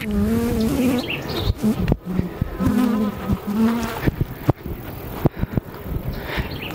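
Bees buzz in a loose, wavering drone around a beekeeper outdoors, close and fairly loud, broken by several sharp knocks and bumps.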